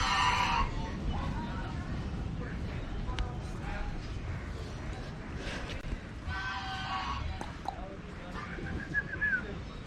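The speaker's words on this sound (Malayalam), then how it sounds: "ടർക്കി കോഴി." A turkey calling among other fowl at a pet animal facility in Kannur, with short bursts of calls near the start and again midway over a busy background, while people talk nearby.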